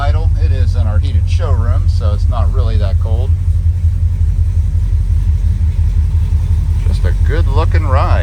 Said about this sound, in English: Even with the cold start, we've settled right back down to a nice little idle.